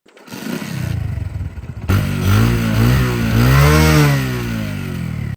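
A Hero Honda Passion motorcycle engine revving up close, loud and continuous, its pitch rising and falling through several throttle blips after a quieter idle at the start.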